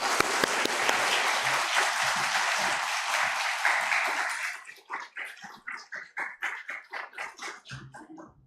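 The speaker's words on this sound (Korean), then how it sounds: "우리 박수로 환영하시겠습니다." A church congregation applauds in welcome, dense clapping for about four seconds that thins into a few scattered, rhythmic claps.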